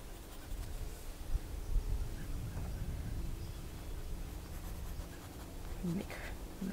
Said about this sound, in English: I'm just using my pencil.